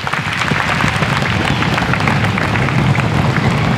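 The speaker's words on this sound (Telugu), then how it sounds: "So you can give light claps for me." An audience of school staff and students gives light applause at a school cultural program, with a dense, steady patter of many hands clapping at moderate volume throughout.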